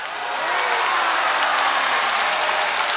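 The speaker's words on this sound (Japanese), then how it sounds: "大歓声" A packed arena crowd at a women's pro wrestling tag team title match roars and applauds after the championship win, a dense, loud, sustained wall of cheering and clapping that swells in at the start and holds steady.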